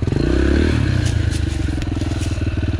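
Yamaha TTR 125 dirt bike popping the clutch on a slippery slope, a loud close engine burst with pulsing revs, clatter and scraping throughout.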